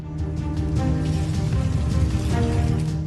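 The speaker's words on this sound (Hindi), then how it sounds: "असम में आसमान से ओलों की बरसात।" Hailstones pelting down during a severe hailstorm in Assam, a dense, steady rattling patter that holds loud and continuous throughout with no pauses.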